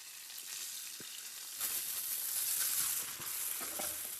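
A tempering of mustard seeds, cumin, curry leaves and asafoetida in hot oil is poured into a dish for dahi vada. It gives a steady, close, bright sizzle that swells partway through and goes on without pause, with no voices.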